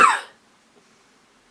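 A person imitates a cough: one short, sharp, close burst that dies away quickly, followed by near silence.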